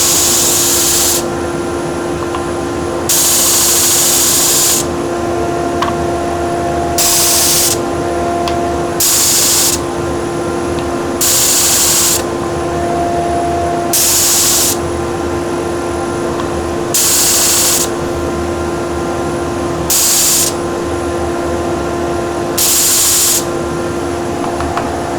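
Power tool trimming a wooden pen blank down to its brass tube, a loud, steady whine close by that surges in repeated bursts as the cut is worked.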